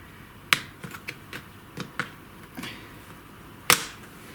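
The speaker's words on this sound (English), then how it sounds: "Can you hear it all clipping in?" An SSD drive connector clips into a Windows 10 laptop with a series of sharp, close plastic clicks and snaps, several small ones spread out and one louder snap near the end.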